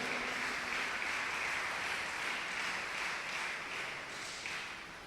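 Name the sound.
church congregation applause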